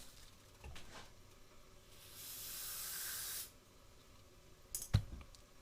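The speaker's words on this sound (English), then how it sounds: "then I'm going to spray the carb cleaner in there." Carburetor cleaner sprayed from an aerosol can into a Bing 54 carburetor off a Rotax 523 ultralight engine: one steady hiss lasting just over a second, framed by quiet handling clicks and a sharp knock afterward.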